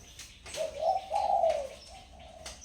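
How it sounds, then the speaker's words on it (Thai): A caged dove, being readied for a decoy enclosure, gives a few soft, low, rounded coos in steady succession, fairly close, with faint chirps in the background. "ว่านกคึกอยู่ในกรง มันจะกล้าไหมครับ จะกล้าเล่นในพเนียดไหมครับผม"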